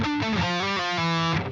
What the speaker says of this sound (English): A melody based off static harmony might sound something like this.